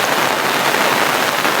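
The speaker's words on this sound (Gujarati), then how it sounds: "આજે તો છે ને ભૂકાતોડ વરસાદ છે એમ" Heavy monsoon downpour in Chhota Udepur, a dense steady roar of rain drumming on surfaces, loud and close, continuous without any voices.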